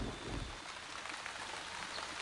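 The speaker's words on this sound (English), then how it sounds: "Oh, now it's raining." Steady rain pours in a puzzle video game as an even, dense hiss of falling drops, soft and continuous with a brief low rumble at the start and no voices.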